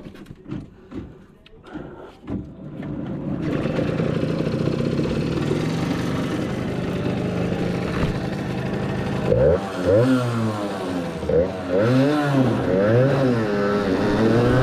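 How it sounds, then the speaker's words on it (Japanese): A special six-speed rental racing kart runs laps at Igashira Motor Park, its engine buzzing close and loud through rising and falling revs as gears change, after a few brief blips at the start. "じゃあ、この特別なレーシングカートの走行映像を行ってみましょう。"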